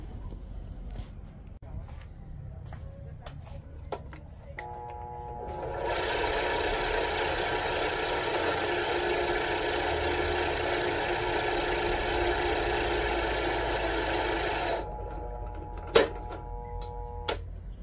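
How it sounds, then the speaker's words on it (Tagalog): A 350-watt electric drill with a large bit in metal fabrication of a straight pipe mount runs steadily for about nine seconds, a loud sustained whine that strains under load before cutting off, with ticks and clicks around it. "Malaking drill bit guys, pero hindi kaya ng motor guys. Kasi 350 watts lang."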